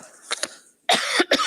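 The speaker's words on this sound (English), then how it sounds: "Sorry, I don't want to cough at you." A single person coughs indoors, a couple of short muffled bursts followed after a brief pause by a louder, harsher double cough, close by.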